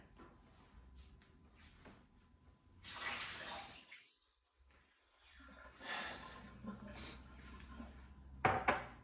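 Water spills from a Keurig K Supreme Plus coffee maker in two soft splashing bursts separated by a near-silent pause, quiet and close, followed by a brief clatter.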